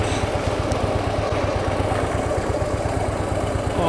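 A Harley-Davidson motorcycle engine idling nearby, a steady low rhythmic thumping pulse that holds evenly throughout without any voices.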